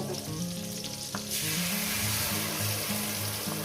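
Tomato frying in a pan for a spiced omelette dish, a dense, continuous sizzle that swells louder partway through, with faint stirring and no talk.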